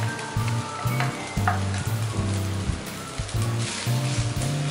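Mashed potato and peas fry in a pan with a steady close sizzle, broken by a series of rhythmic scraping strokes and a low repeating hum; no voices.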